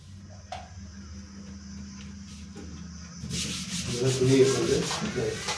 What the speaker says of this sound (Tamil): ஒரு துணி யூஸ் பண்ணி நல்லா தேய்ங்க.